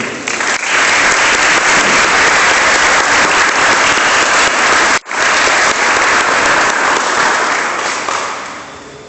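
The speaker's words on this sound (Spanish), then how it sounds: "Dele aplauso al Señor Jesucristo." Congregation in a Spanish-language church service during a sermon on Christianity and Christmas breaks into loud, sustained applause for Jesus Christ, steady and full for several seconds with a brief break midway, then tapering off.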